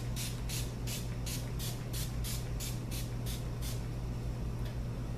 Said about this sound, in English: I'm gonna set my face with the set spray